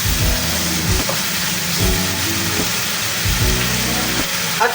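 Shrimp paste (alamang) being sautéed in a pan for chicken feet Bicol Express, a steady sizzle with several scraping strokes of a spatula stirring, close and fairly loud, no speech.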